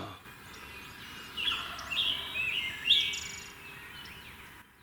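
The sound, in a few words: wild turkey gobbling in the Ohio mountains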